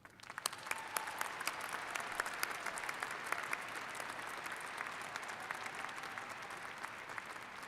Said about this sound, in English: Please join me in a round of applause for our faculty and staff.